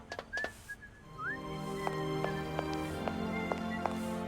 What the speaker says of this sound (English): Why am I hearing whistling?